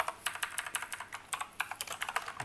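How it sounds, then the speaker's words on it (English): Steady typing on a computer keyboard while writing code, a quick irregular patter of light clicks close by, with no voices. "There'll be a lot of typing involved here."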